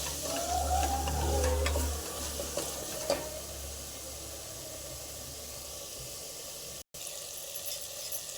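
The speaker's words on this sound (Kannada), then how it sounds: "ಆ ಮಸಾಲೆ ಎಲ್ಲ ಫ್ರೈ ಆಗಿ ಎಣ್ಣೆ ಬಿಟ್ಕೊಳ್ತಾ ಇದೆ" Masala spices frying in oil in a pan for egg pulav, a steady soft sizzle with faint stirring scrapes, louder at the start and then settling into a low, even hiss.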